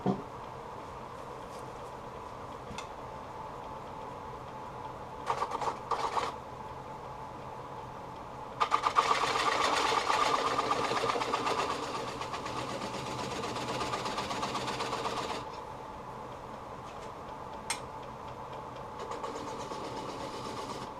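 A wood lathe turns a coastal redwood serving plate with a steady low mechanical whir, broken by brief bursts and a louder stretch of tool contact and scraping partway through.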